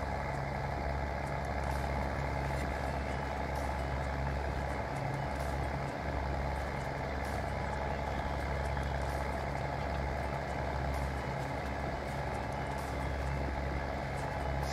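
Farm vehicle driving in Landwirtschafts-Simulator 19, a steady loud engine drone with a low rumbling hum that holds constant throughout.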